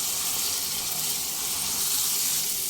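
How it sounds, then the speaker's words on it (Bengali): Spice masala for a vegetarian doi potol curry frying in a pan over a medium flame gives a steady, close, continuous sizzling hiss with no break and no voices. "মশলাটাকে দুই থেকে তিন মিনিট মিডিয়াম ফ্লেমে কষিয়ে নেব"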